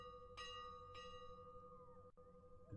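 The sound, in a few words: bell ringing during live video game event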